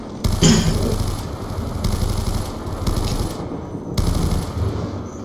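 Sustained rapid bursts of RPD machine gun fire in Call of Duty Black Ops 2 Zombies, loud and continuous with brief breaks between long volleys.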